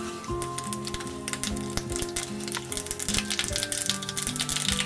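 Mustard seeds crackling and popping in hot oil, a dense continuous sizzle with sharp pops over a faint tonal background hum.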